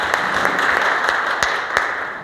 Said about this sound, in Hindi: एक बार उनके एफर्ट्स के लिए जोरदार ताली।